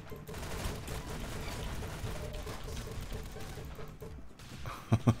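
Rapid spam firing of a gun in the Roblox game Arsenal, a continuous dense rattle of shots under a steady noisy bed, ending with a few sharp separate clicks or pops.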